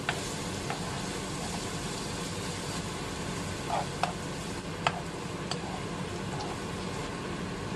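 Pork belly stir-frying with chili and garlic in its own rendered fat gives a steady close sizzle, with a few scattered clicks and scrapes from stirring. No one speaks.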